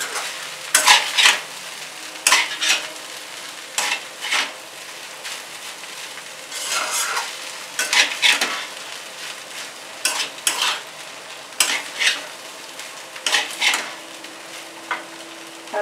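Flattened rice (chira) pulao being stirred in a frying pan, a utensil scraping and clinking against the pan in repeated strokes over a continuous soft sizzle, close and clear with no talking.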